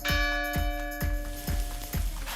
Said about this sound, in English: Listen, can you hear it? That might be the bells of Flavortown Church.